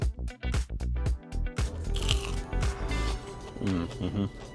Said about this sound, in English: I heard the crunch on that one.